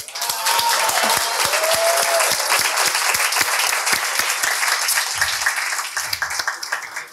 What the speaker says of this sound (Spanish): Un aplauso para las tías